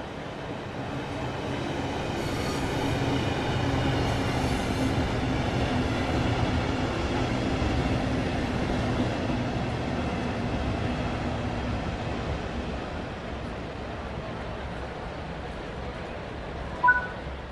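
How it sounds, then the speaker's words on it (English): A train in Train Sim World 3 on a British route rumbles in steadily with a low mechanical drone, slowly fading, followed by a brief faint chime near the end. "Your train has arrived."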